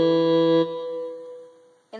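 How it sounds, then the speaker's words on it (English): Electronic keyboard set to its tenor saxophone voice, number 49, holding a sustained reedy note that drops to a softer tone and fades, then a new note starts at the end. "And 49 is a saxophone, or it says tenor sax, so it sounds like this."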